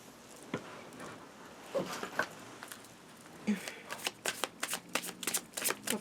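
A deck of tarot cards being shuffled close up, with soft riffling and rapid bursts of card flicks that grow quicker and denser toward the end.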